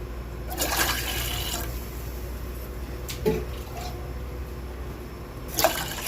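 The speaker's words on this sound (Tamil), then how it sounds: "அதுக்கு தேவையான அளவு தண்ணி ஊற்றிக்கிறேன்" Water poured into a pan in a home kitchen to make sugar syrup for a sweet, a soft steady splashing stream with a couple of brief clinks of the vessel, fairly quiet and close.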